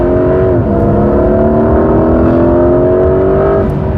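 A Porsche 992.2 Carrera GTS hybrid 911 accelerates hard on back roads, its engine note rising steadily and loud from inside the car, with a brief dip as it shifts before climbing again.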